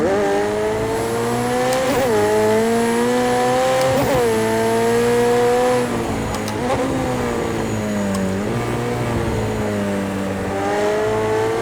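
A race car in the video game Project CARS 2 roars steadily on a tight track, its engine rising and dipping through gear changes with brief tire squeals, loud and continuous with no talking.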